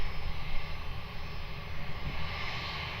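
An airliner's engines roar steadily as it takes off from runway 02 at Lisbon Airport, a loud sustained broadband rush heard from a distance with no voices.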